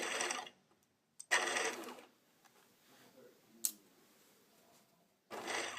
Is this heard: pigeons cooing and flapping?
no